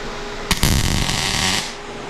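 Everlast Power i-MIG 253 DPI MIG welder running a quick bead at default settings, a sudden click then a steady close buzzing crackle for about a second before stopping.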